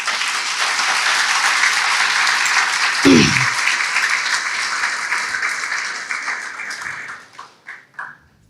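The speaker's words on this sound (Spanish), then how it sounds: "Dale un fuerte aplauso." A church congregation breaks into loud applause, sustained dense clapping with a sharp knock near the middle, then the clapping thins out into a few scattered final claps.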